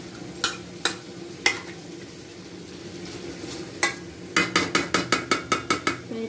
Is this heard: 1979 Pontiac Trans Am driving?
no